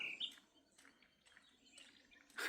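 Faint bird calls come in short, repeated bursts, a soft trilling chirp returning every half second or so against a quiet outdoor background.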